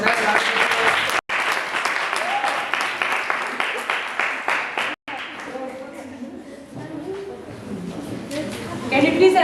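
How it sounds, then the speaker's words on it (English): Audience applause fills a hall during a school science debate for National Science Week, with dense, steady clapping that stays loud for several seconds before thinning into scattered claps and crowd noise. "Let's give our second responders another round of applause."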